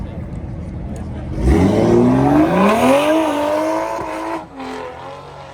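A BMW M2 drifting at a car meet, its engine revving hard and rising in pitch while tires squeal, loud and close, with a crowd shouting over it.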